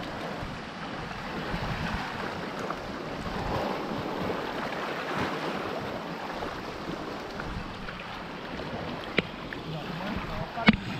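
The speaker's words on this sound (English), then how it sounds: "Let's get a shot of the river here." River water rushing steadily around a bamboo raft in Thailand, a broad continuous wash with wind buffeting the microphone and a couple of sharp knocks near the end.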